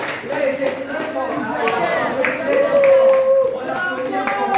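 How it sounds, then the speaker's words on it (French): Audience at a union reflection day in Liège clapping for an honored member, scattered claps running under voices talking over the room. "Applaudissez quand même pour lui"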